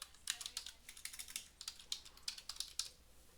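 Quick, uneven keystrokes on a computer keyboard as a search term is entered into an online form, with soft clicks clustered in short bursts and no voices.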